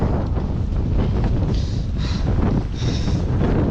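Strong wind roars across the microphone on a rocky mountain bike trail in Squamish, a loud, steady buffeting rumble with gusty swells and no pauses.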